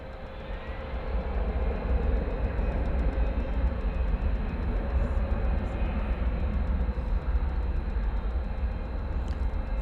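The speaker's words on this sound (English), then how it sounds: "Looks like an Airbus A319 to me." An Airbus A319 departs DFW Airport at night, a loud, broad jet roar that stays strong and steady throughout.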